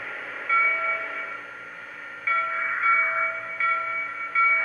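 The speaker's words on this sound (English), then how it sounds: "what's the standard bell we got now?" A Lionel Great Northern 1385 Pacific model locomotive's standard bell: a steady, ringing electronic tone with harmonic overtones in repeated bursts, mid-loud and close, with short gaps between each stretch of ringing.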